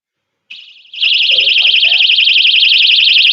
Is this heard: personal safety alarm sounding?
yes